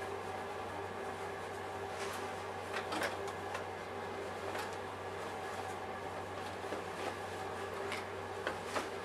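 A sewing machine stitches a mini backpack, humming steadily with a low motor drone and rapid ticking stitches, fairly close, with a few louder clicks along the way.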